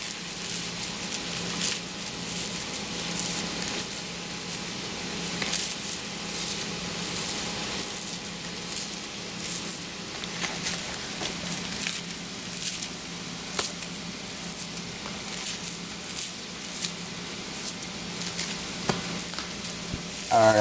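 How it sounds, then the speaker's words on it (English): Vegetables sauté in a pan for cornbread dressing, a steady soft sizzle with occasional stirring scrapes and light crackles throughout, close and even, with no talking. "we're just gonna go ahead and let them saute till they're nice and tender"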